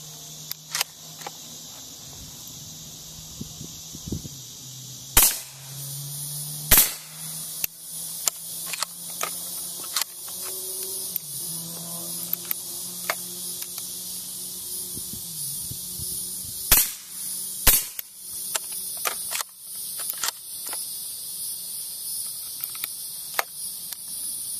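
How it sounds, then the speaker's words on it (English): Suppressed subsonic 300 Blackout rifle shots from a 16-inch barrel fitted with a Silencerco SWR suppressor: a handful of sharp, spaced cracks stand out against steady outdoor insect buzz. "SDN6 300 blackout against the SWR 9mm 300 blackout. Both 16-inch barrels, 300 blackout subsonic."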